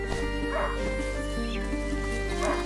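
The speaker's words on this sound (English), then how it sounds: "A hunting dog is not supposed to lose its hunter." A hunting dog in the video game A Plague Tale: Innocence gives a few short yips and whimpers over a constant droning ambient music bed.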